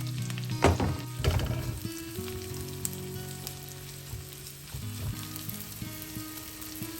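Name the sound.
shallots sautéing in olive oil and butter in skillet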